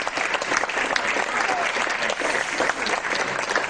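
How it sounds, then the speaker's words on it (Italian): Loud, dense applause fills a theatre at a short-film night, continuous and close from start to finish with no speech over it. "L'applauso di vergogna!"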